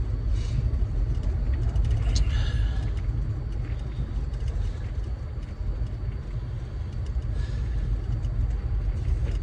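A vehicle climbs a slick road toward the top, its engine and tyre rumble a steady, heavy low drone throughout with faint intermittent rattles.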